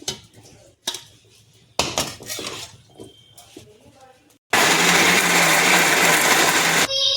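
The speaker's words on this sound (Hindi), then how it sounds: "ये ठंडा हो गया, इसको पीस लेंगे जाल में डाल के।" Cooled roasted spices for butter chicken being ground in a mixer jar: first a few clinks and knocks of the jar and lid with brief talk, then a loud, steady whirring grind that runs for about two seconds and stops abruptly.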